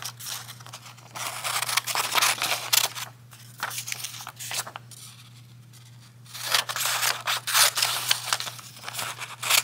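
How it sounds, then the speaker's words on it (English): Scissors snipping strips off a sheet of blue paper, rapid bursts of crisp cutting strokes close by with a brief quiet gap between runs, over a faint steady hum. "I'm going to cut the blue paper"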